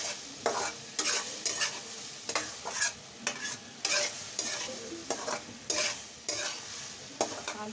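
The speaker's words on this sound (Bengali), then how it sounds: "আলু দিয়ে লঙ্কা শুটকি রান্না করতেছি।" Dried fish with potatoes and chili cooks in a pan, a soft continuous sizzle broken by regular scraping strokes of a spatula every second or so, close and fairly quiet.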